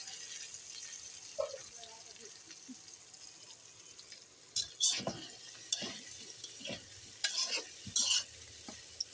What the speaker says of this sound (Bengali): তো এখন আমি নাড়া দিব